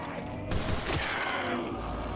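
Gunfire in a video game: a dense burst of rapid shots that starts abruptly and carries on loud and close, with no talk over it.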